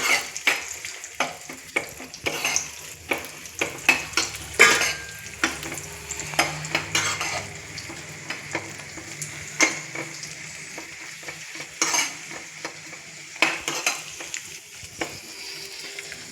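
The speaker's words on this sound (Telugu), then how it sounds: "ఇవన్నీ కొంచెం సిమ్లో పెట్టి వేపేసుకోవాలండి గీలోనే." Ingredients frying in ghee over a low flame for temple-style jaggery rice prasadam, a steady soft sizzle broken by frequent clinking stirs of a spoon against the pan, close and continuous with no talking.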